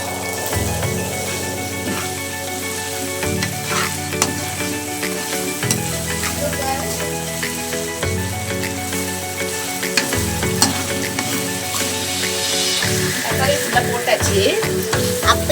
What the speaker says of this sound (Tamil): கொஞ்சமா தக்காளி போட்டு நல்லா மிக்ஸ் பண்ணிக்கலாம்.